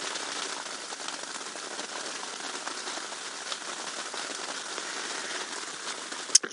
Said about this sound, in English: just listen to that rain, everybody